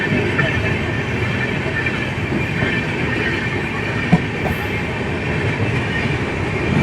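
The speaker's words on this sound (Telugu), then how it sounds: "వచ్చేసింది beautiful వ్యాప్సాన్ locomotive Tata Nagar shed బంగారు పోసి puri intercity super fast express" Puri Intercity Superfast Express, hauled by a Tatanagar-shed WAP-7 electric locomotive, rumbles steadily past with continuous wheel and carriage noise, loud and close throughout, with a brief sharp click near the end.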